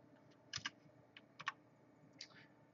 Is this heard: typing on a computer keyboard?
yes